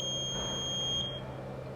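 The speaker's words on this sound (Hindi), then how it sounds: "इसके साथ साथ हमने बजर इंडिकेशन भी दिया है जो एवरी 30 सेकेंड्स ऑन और ऑफ होता है।" A continuous rail thermometer sounds its temperature alarm buzzer, a steady high-pitched electronic tone heard close that holds for about a second and then cuts off, leaving a low hum.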